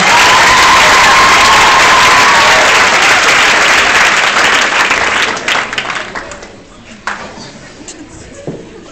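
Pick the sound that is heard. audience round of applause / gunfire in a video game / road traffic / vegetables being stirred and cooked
audience round of applause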